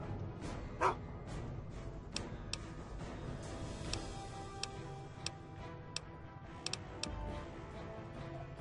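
A dog in the Fallout 3 video game gives one short bark near the start, set against a steady background of faint ticking and game ambience.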